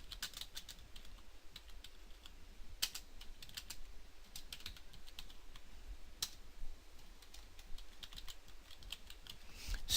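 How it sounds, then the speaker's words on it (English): Fingers type on a computer keyboard, a quiet steady run of close, light clicking keystrokes with irregular rhythm and brief pauses, over faint room hiss; no talking. "and I'm just going to type in"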